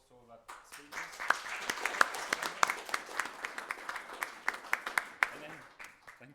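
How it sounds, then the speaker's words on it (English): A conference audience in Brussels gives a final round of applause for the session's speakers, a steady wash of many hands clapping for about six seconds before it fades, heard from a moderate distance. "if we could just give a final round of applause to all our speakers"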